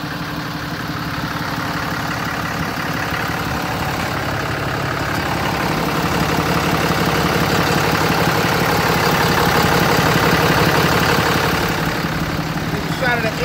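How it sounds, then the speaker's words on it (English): A 2011 Ram 3500 crew cab's Cummins turbo diesel idles close by, giving a steady low rumble with a gentle rise in loudness partway through and no voices over it. "Let's have the Cummins turbo diesel."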